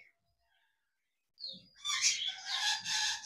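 A caged male running pigeon calls after a near-silent start, giving a close, raspy burst followed by a louder stretch of throaty calling.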